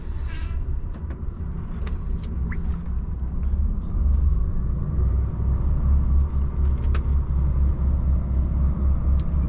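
A DAF truck pulls away and drives on, its engine giving a steady, loud low rumble with road noise throughout and a few faint higher clicks and squeaks, with no talk.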